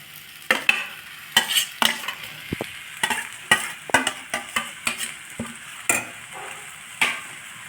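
Cooked rice being stirred into brinjal masala in a pan, with repeated sharp spoon scrapes and clacks against the pan in an irregular rhythm, close and clear over a faint background sizzle.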